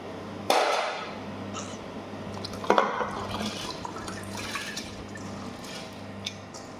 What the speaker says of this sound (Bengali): পানি বলক এসে গেছে, এখন আমি চাল দিয়ে দিব।